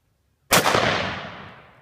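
A single sharp, loud rifle shot from a Remington 600 in 6.5mm Rem Mag, sudden after silence, with a long echoing decay outdoors.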